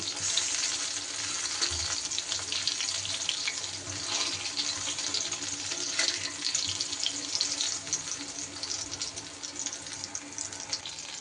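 Brinjal pieces fry in oil with a steady hissing sizzle, fairly quiet, broken by occasional stirring and clatter from the pan.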